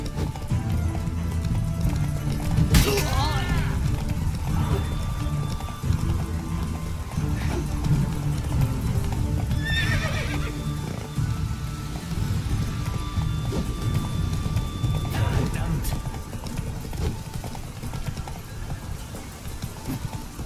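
Rhythmic hoofbeats of a galloping horse in The Witcher 3: Wild Hunt run steadily throughout, with a couple of sharp whinnies and game music and effects layered underneath.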